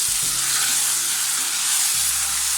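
Koottu curry mix hitting hot fried coconut and curry leaves in a pan, a loud dense sizzle with low thuds and scraping stirs, continuous and close.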